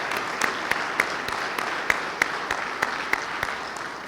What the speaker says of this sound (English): So let us give them a round of applause for their hard work.